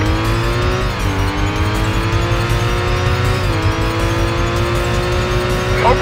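Race car engine from the PS2 video game Stuntman, a loud, sustained high-pitched whine that dips and climbs with gear changes while overtaking, without any talking.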